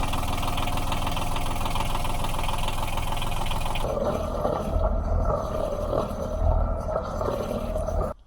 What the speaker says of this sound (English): time to check the engine again, get it rolling